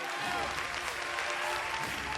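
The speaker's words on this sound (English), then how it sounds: "And the crowd loves it." Crowd applauding and cheering at a martial arts fight, a dense wash of clapping and crowd noise throughout, with a commentator's voice faintly mixed in.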